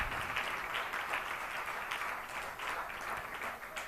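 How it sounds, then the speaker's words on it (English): Steady applause from a crowd at an ISKCON Bangalore closing ceremony, a continuous wash of clapping holding at an even level throughout. "I request for a big round of applause"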